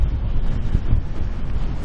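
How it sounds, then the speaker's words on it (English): Steady gusting wind of 15 to 20 knots with gusts of 30 buffets the microphone at an anchorage in Boughey Bay, British Columbia, a low, rumbling roar, continuous and close throughout. "Well, it's been a windy last 24 hours."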